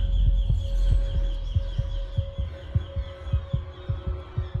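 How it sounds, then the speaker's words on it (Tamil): A heartbeat sound effect from the Tamil film 96 pulses steadily, about two and a half beats per second, low and prominent over a sustained tonal hum, building tension with no voices. "அவனோட ஹார்ட் பீட்டை வச்சு அங்கே ஒரு சீக்வன்ஸ் இருக்கும்"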